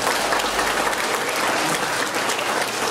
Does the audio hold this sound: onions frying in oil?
no